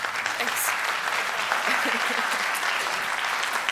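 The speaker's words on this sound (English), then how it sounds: "I don't think, as an audience, we've applauded you yet, so." An audience at a DrupalCon conference session applauds a speaker with a sustained, even wash of clapping, and voices are heard faintly beneath it.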